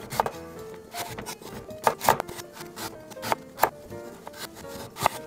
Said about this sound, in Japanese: 斜め 3mm 厚さに包丁を入れ大きく輪切りします